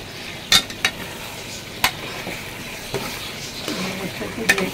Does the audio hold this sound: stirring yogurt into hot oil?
yes